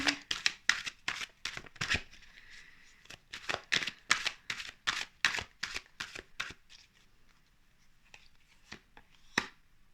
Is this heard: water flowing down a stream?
no